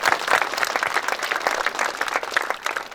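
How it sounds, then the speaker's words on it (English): An audience gives a round of applause for a recognized community advisory team at a formal program, sustained dense clapping with slightly pulsing intensity, moderately loud and continuous from start to finish. "First, the Community Advisory Team. Let's give them a round of applause."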